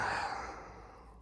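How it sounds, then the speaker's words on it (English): Heavy, labored breathing from a man working with a Stihl 2-in-1 chainsaw sharpening file, a single long, breathy exhale fading out, close and alone. "I'm breathing heavy"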